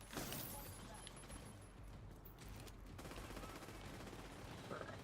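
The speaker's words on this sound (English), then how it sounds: "Stop shooting at me." Gunfire in Tom Clancy's The Division 2, fairly faint rattling bursts of automatic shots running steadily through a busy in-game soundscape, with voices talking over it.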